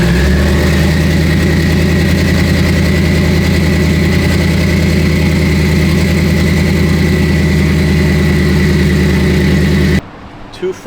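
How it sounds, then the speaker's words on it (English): A Corvette C6 Z06 engine after a cold start, a loud steady rumbling idle with a deep throbbing drone that runs unbroken for about ten seconds before cutting off abruptly. "let's go ahead and get a cold start, wake up the entire neighborhood"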